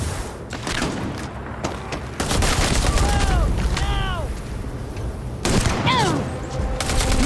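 Shotgun blasts in Starfield combat come as loud, booming reports, with heavy bursts at a couple of points amid a dense, noisy battle full of other gunfire and whooshing effects.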